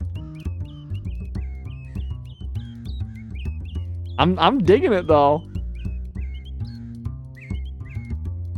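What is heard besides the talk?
birds chirping to the beat in video game music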